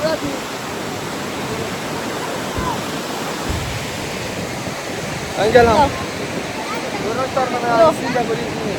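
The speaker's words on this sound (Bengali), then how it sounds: "এই দেখো কিরকম সমুদ্রের ঢেউ, সবাই গোসল করছে" Sea waves rolling onto Sitakunda beach where people are bathing, a broad continuous wash of surf with wind, voices and shouts rising over it toward the end.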